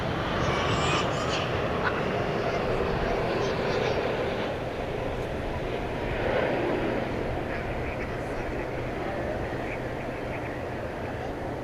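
Eva Air Boeing 787 Dreamliner arriving at DFW Airport at night from Taipei, a low continuous jet rumble swelling and easing, heard at a distance with some background chatter.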